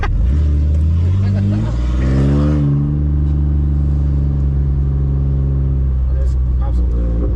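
An old-school Benz drift car engine roars and revs loudly nearby, pitch climbing then settling into a heavy rumble, with people talking over it at a car meet.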